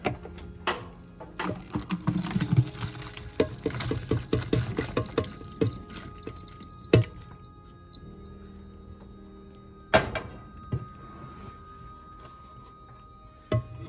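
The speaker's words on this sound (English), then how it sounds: "here we will drain the water." Water splashes and patters unevenly for several seconds as cooking water is drained from pasta, followed by quieter moments and a couple of sharp clatters.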